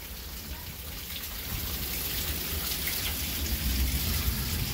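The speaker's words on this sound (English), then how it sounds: "Boy, do we got some rain coming down." Heavy rain pouring down during a spring thunderstorm in Albertville, Alabama, a steady broadband wash that swells slightly louder partway through and continues without a break.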